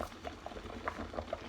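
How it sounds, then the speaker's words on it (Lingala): Potatoes boiling in a pot of water at close range, a soft steady bubbling with scattered small pops and gurgles over a low rumble, no voices. "Pomme de terre na ngeza awa ezotoka."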